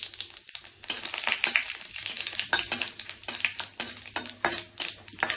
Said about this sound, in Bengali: শুকনো লঙ্কা দিয়েছি, আর তেজপাতা দিচ্ছি। লঙ্কা প্রচুর গরম হয়ে গেছে, আর পাঁচফোড়ন দিচ্ছি।